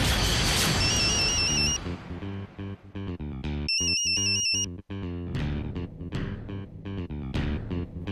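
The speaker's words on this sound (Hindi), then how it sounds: "मैं सोच रही हूँ कि फोन करके पूछ लेती हूँ कहाँ है ना" A telephone rings in bursts of electronic tone on an outgoing call in a Hindi TV serial scene, two separate ringing stretches sitting over loud dramatic background music.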